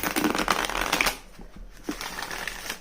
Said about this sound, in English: I love shuffling big cards.